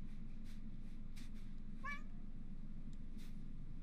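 A short cat meow from the Calico video game rises out of a steady low background hum, with a few faint chimes scattered around it.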